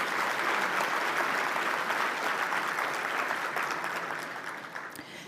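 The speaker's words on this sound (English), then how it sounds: "give a round of applause for the sponsors" An audience claps for event sponsors, a steady wash of applause heard from a moderate distance that stays even for a few seconds and then slowly tapers off.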